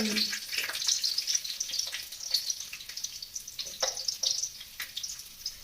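Red chillies and onion frying in hot oil, a busy crackling sizzle with bright spitting pops throughout, close up and steady with no voice over it.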